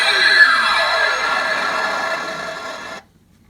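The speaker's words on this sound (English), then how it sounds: "And the damage." The electronic damage sound effect from a 1996 Playmates Star Trek First Contact Borg Sphere toy plays as a loud synthetic burst with a descending sweep, then a buzzing tone that fades slightly over three seconds before stopping abruptly.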